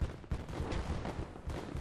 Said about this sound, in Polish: Gdzieś wybuchło.